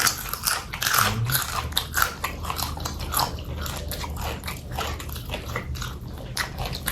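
Crunchy sweet beans being chewed close up during a Thai meal of spicy raw beef dish and vegetables, with repeated crisp bites and steady mastication throughout, no talking.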